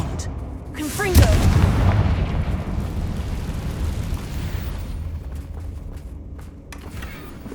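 Fiery Confringo spell blasts go off in the video game Hogwarts Legacy, a loud booming explosion rising sharply and then trailing into a long rumbling decay over a dense battle background.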